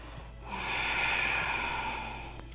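A single slow, deep breath during a yoga pose: a soft, airy inhale swells over about a second, then eases off, close to the microphone, with a faint nasal snort-like catch near the end and no talking.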